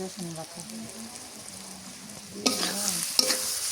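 Ginger paste is stirred into a pan with spices, giving a low, soft sizzle under a faint voice-like hum, then a sudden louder burst of frying and scraping partway through.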